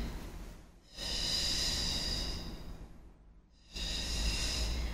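Heavy breathing during an upper-body workout: two long, loud, airy exhales, each followed by a quieter pause, close to the mic.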